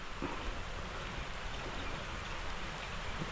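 Steady rain falls outdoors in Kerala during a day of fishing, forming a dense, even hiss with scattered drop patters throughout, loud and close, with no talk.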